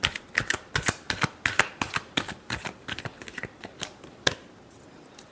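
A tarot deck being shuffled by hand, a close, crisp run of rapid riffling snaps and taps in an uneven rhythm for about four seconds, with no talking.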